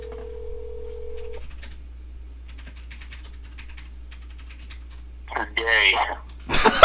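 A phone number is tapped out in the Doki Doki game, a short run of quick keypad beeps and clicks heard alone over a low hum, followed by a brief burst of louder sound at the end.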